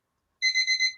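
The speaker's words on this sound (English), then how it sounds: "I thought that was my alarm." An electronic alarm goes off with a burst of four rapid, bright beeps, loud and close, after a moment of silence.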